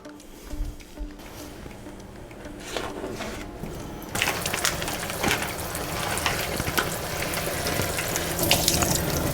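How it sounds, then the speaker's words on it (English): Cured salmon held under a running kitchen tap of cold water, the steady close splash and gush swelling louder and fuller partway through as the stream hits the fish and sink, with no talking. "we're gonna take this and rinse it under cold water"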